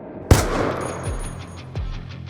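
Gunshots, one sharp loud blast followed by two softer booming shots with echoing tails, close and reverberant, no talking.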